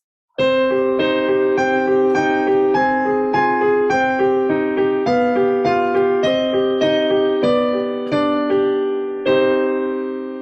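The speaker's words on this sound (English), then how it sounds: "if I were to convert the same exact song into a minor key, it would sound very gloomy and sad." A piano plays a slow, somber melody in a minor key over sustained chords, each note struck clearly and fading gently.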